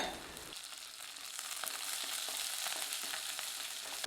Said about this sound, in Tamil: இதை சேர்த்து வதக்கி விட்டுக்கலாங்க.